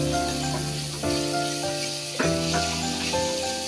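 Tomatoes sizzling and being stirred in a frying pan while cooking a Kerala-style fish curry, a steady close hiss with a few soft scraping stirs and no talk.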